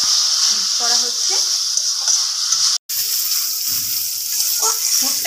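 Banana stem curry with fried nuts being stirred in a pan, a steady close sizzle with soft scraping and clinks of the spoon, briefly cut off once midway.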